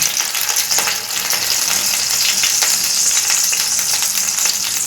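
Cumin seeds frying in 75 ml of hot oil in a heated frying pan, a steady loud crackling sizzle throughout with scattered sharper pops, close by, with no talking.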